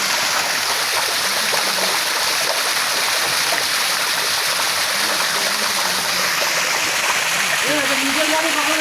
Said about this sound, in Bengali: পানি খুলে দেখেন